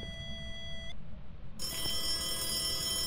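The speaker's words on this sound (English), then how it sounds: "I'm not answering the phone for nothing." A telephone rings in the Phasmophobia ghost-hunting game inside a school, with steady electronic bell tones that cut out briefly and then resume brighter and louder, with no talking over them.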